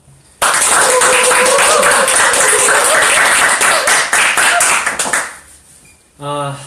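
Company staff applaud to open an HR reform live talk: a dense burst of many hands clapping for about five seconds, loud and close, then fading out before a voice speaks.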